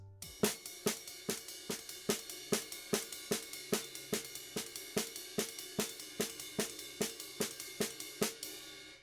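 Jazz drum pattern played at a fast tempo: a steady stream of crisp, evenly spaced cymbal and drum strokes, close and bright, running alone for the full length without any talking.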